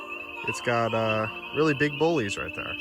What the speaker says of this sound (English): You can hear all the chorus frogs in the background.